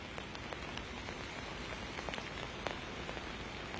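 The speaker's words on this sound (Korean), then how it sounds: "제가 나와 있는 이곳 청계천은 기온이 서늘하고 비가 내리고 있습니다" Steady rain falls at Cheonggyecheon stream on a cool day, a soft continuous hiss of drops on surfaces with occasional sharper patters, fairly faint and with no voices.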